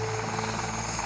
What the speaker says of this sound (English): Pilot Geoff is moving the helicopter closer to their patient.